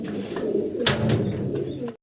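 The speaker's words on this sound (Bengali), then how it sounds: "এগুলো সবই হচ্ছে হাই ফ্লার কবুতর" High flyer pigeons coo steadily at close range, a low continuous murmur of overlapping calls with a brief sharper sound near the middle, then a sudden cut to near silence at the end.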